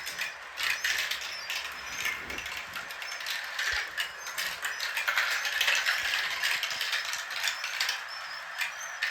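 Marbles roll and clatter through a large track with five motorized elevators. The lifts give a continuous mechanical ratcheting whir under a busy, steady rattle of rolling glass, with no talking.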